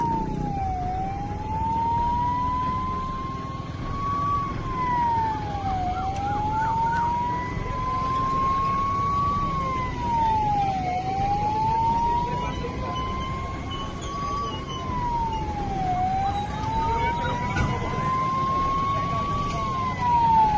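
An ambulance siren wails continuously, rising and falling in a slow repeating cycle, loud and close, over a low rumble of traffic, late at night after a road accident in Mohali, Punjab.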